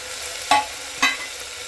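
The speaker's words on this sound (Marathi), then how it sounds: "बटाटा पण धुवून घेतलाय हे टाकून घ्यायचं चांगलं त्याला परतायचं" Washed potatoes sautéing in a pan for pulao, a low steady sizzle with two distinct scraping stirs of the spoon close by.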